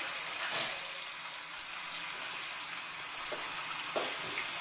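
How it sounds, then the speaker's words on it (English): Water pours steadily from a tap into a bucket, a continuous hissing splash with a few soft knocks and no voices. "Then we take our bucket and we fill it with water."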